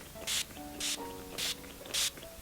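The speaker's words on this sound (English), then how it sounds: "I'm also just going to quickly apply my setting spray" Makeup setting spray misted onto a face in four quick, evenly spaced hissing bursts from a close pump bottle, each short spray separated by brief quiet pauses.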